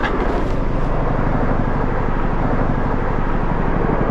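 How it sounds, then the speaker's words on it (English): A low-flying military helicopter passes over a remote river route, a loud, continuous rumbling roar that fills the air steadily throughout with no talk. "Big military chopper coming over my head again."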